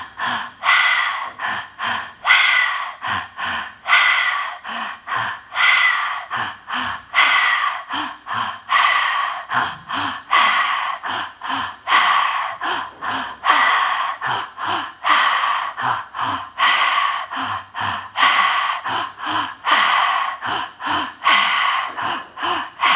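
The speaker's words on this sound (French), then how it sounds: "Inspire par la bouche. Expire par la bouche." Forceful breathing in and out through the mouth during a Moksha Kriya breathwork exercise. Close, loud gasping inhales and exhales repeat in a steady, quick rhythm throughout, with no talking.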